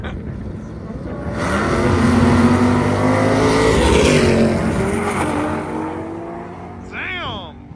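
A 1700 whp Nissan GT-R launches on an eighth-mile drag test pass: a loud, close engine roar swells and holds for several seconds, then fades, followed by a brief rising, whining rev.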